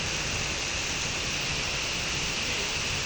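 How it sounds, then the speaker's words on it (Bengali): Heavy rain falling steadily, a dense continuous hiss without breaks, close and fairly loud, alone without any talk. "বৃষ্টির সামনে দাঁড়িয়ে বৃষ্টি দেখছি"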